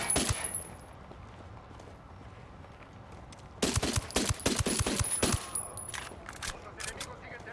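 Gunfire in the video game Ghost Recon Wildlands: a sharp shot at the start, a quiet gap, then a rapid burst of loud automatic shots that fades into lighter scattered fire.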